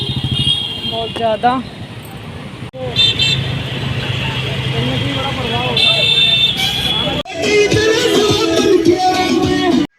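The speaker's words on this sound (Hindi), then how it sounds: "देखो कितना ट्रैफिक है भाई," Heavy road traffic rumbles during a Ganesh Visarjan outing, with car horns tooting repeatedly, some long and some short, up close and loud while people talk over the engine noise.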